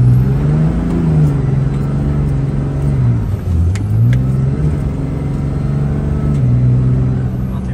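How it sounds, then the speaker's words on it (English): Cummins 5.9 diesel pickup truck fitted with an S&B intake accelerating hard, a loud, steady engine drone that rises and dips in pitch with intake whoosh through the pull, close up and without talk. "we're gonna do a little pull here just so you guys can hear the intake"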